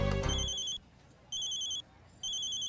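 A telephone rings with repeated electronic trilling bursts, three evenly spaced pulses following a brief louder noise at the start, clear and near.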